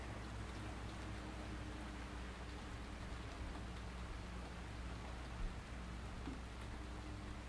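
Steady rain falls on an outdoor deck aboard a boat, a soft continuous hiss of drops on the surface with a low engine-like hum underneath, moderately faint and unbroken throughout, with no voices.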